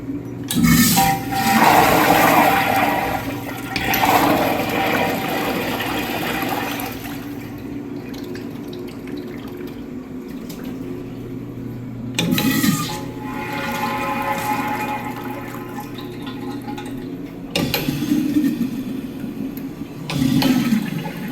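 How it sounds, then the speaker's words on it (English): A row of first-generation American Standard Lynbrook urinals flush in a public restroom. Several loud, rushing water surges come one after another, each swelling and then tapering off over several seconds, with no talking. "Now I'm going to flush this first one, and then I'm going to flush the remaining 3"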